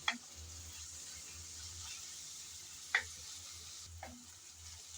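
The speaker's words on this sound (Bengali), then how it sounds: "পেঁয়াজটা আমি কিছুক্ষণ নেড়ে চেড়ে ভেজে নিয়েছি" Onion frying in oil, stirred in a pan, with a steady soft sizzle broken by a few sharp scraping clicks of the spoon.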